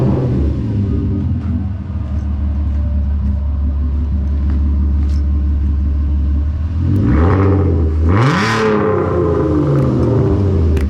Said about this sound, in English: close the hood, and you can drive your VR6